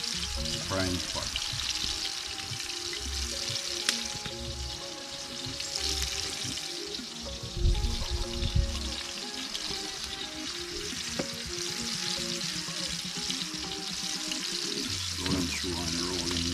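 Jerk meatballs sizzle in vegetable oil in a non-stick pot, a continuous near crackle with clanks of utensils and a brief louder stir midway, while a voice talks faintly over the frying.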